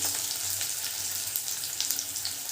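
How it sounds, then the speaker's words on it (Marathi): Pavta curry frying in hot oil in a pan gives a continuous close sizzle and crackle, with small spitting bursts. "हे आपल्याला आता व्यवस्थित फ्राय करून घ्यायचे"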